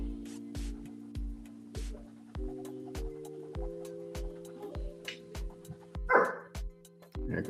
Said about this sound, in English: There go my dog's acting up.